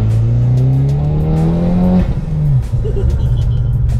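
A 355 bhp hybrid-turbo Vauxhall Astra VXR accelerates hard in second gear, its engine rising loud and close in a rising drone before a gear change, then pulling on again.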